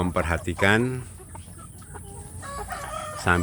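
Free-range village chickens cluck and squawk nearby in short, repeated calls, with softer farmyard sounds filling the gaps between them.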